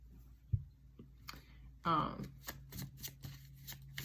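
Deck of playing cards being shuffled at close range, a sharp riffle burst fluttering for about half a second, surrounded by scattered clicks and soft handling sounds in a quiet room.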